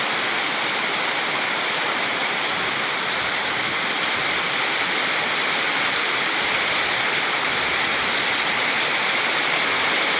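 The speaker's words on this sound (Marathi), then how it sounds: "इतका डेंजर पाऊस चालू आहे" Heavy monsoon rain pours down continuously near a hillside temple, a dense, loud, unbroken roar of water with no voices.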